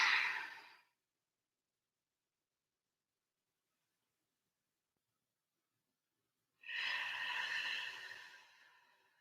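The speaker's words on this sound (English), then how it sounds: "just deep breaths" Two slow, deep breaths, heard up close during a lying butterfly stretch in a barre session: one breath fades out at the start, and after a long silence a second long, airy exhale follows.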